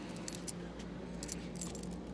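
A bunch of keys, including a transmitter room key, jingles in short metallic shakes, with a few bright rattles over a low steady hum.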